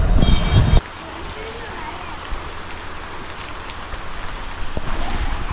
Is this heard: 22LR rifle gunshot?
no